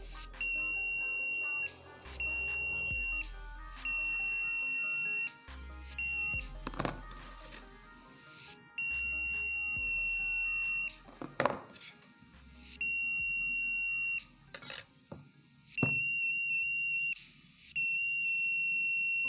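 A homemade metal detector circuit's buzzer beeps in repeated on-off bursts, fairly loud and close, with clinking metal items between bursts and a voice speaking.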